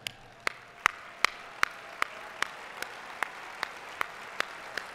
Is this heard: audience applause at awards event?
yes